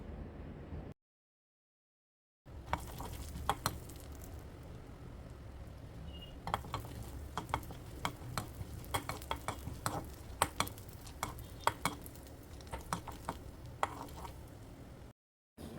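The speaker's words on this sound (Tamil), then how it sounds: "நல்லெண்ணெய் கொஞ்சம் போட்டிருக்கேன். கடலைப்பருப்பு இருந்தால் போட்டு இந்த மாதிரி கொஞ்சம் வறுத்துக்கிறணும்." Chana dal frying in sesame oil while being stirred, with repeated sharp taps and scrapes of a spoon against the pan over a soft sizzle, close and fairly quiet, broken by brief gaps of silence.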